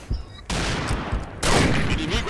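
Video game gunfire in a multiplayer match: two bursts of dense rapid shots, loud and close, separated by brief pauses.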